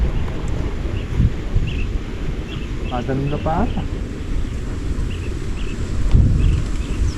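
Steady outdoor wind buffeting the microphone with a low rumble on a farm, while a person speaks briefly in Filipino in the middle and faint bird-like chirps come and go.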